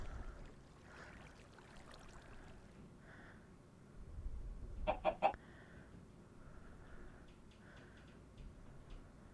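A Minecraft chicken gives a quick burst of clucks midway, fairly close, with quieter clucks scattered before and after over a low ambient hum; no talking.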